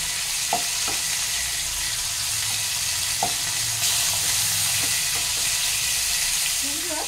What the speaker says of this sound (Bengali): দেখো, এরকম হালকা করে আমি মাছ ভেজে নিচ্ছি